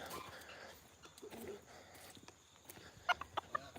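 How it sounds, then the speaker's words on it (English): A silkie rooster gives several short clucks toward the end, close and distinct over a quiet barnyard background. "I'm a silky rooster."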